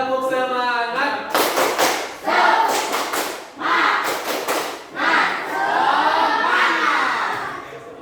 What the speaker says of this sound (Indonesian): Sebelum kita menutupnya, tepuk semangat dulu. Tepuk semangat.